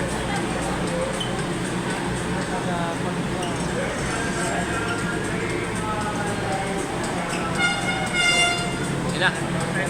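An MRT train pulls into a Pasay station with rolling rumble, metallic clinks and squeals, and a brief horn-like toot near the end, while people chat nearby.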